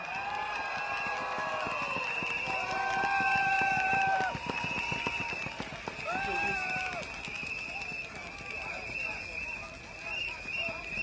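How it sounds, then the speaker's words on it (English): Rally crowd outdoors breaks into sustained applause and cheering, a dense clatter of many hands with scattered shouts and whistles, while a voice talks over the noise. "let's give a round of applause to our Minister Ong Ika"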